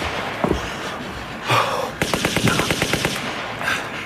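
Gunfire from a film scene: a couple of scattered single shots, then a rapid burst of about a dozen machine-gun rounds in an even rhythm, fairly loud and close, with no talking over it.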